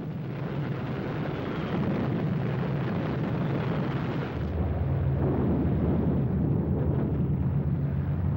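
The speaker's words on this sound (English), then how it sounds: "8th Air Force heavy bombers were hitting targets right in the industrial heart of Germany" Dense rumbling roar of bombs exploding as 8th Air Force heavy bombers hit industrial targets in Germany, a continuous loud blanket of blasts and booms with no pauses, shifting to a deeper, heavier drone partway through.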